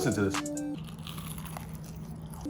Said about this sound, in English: Look at it, like nothing can beat the crunch